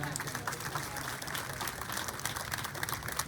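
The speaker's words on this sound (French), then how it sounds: "On s'applaudit fortement, s'il vous plaît." Faint, distant audience applause at an outdoor rural women's day ceremony held in a field, a steady patter of many hands clapping that runs throughout without pause.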